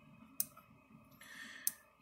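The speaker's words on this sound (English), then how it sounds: "flashing and clicking" A Premier 1 Kube Argus 4000 electric fence charger gives two sharp, faint clicks about a second and a quarter apart, close by over a quiet hum, with no talk.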